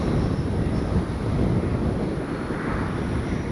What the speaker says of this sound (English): Fast pass into the wind, right down the runway.